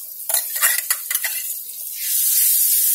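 Amla (Indian gooseberry) sautéed in a pan for amla rice: a few sharp spoon-on-pan clinks and scrapes, then a steady, soft sizzle that swells and holds close to the end.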